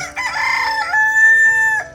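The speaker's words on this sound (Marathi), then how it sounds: "सकाळ सकाळ कोंबडा आरवलेला आहे" A rooster crows once in rural Konkan, close and loud, its call rising into a long sustained note before dropping off abruptly.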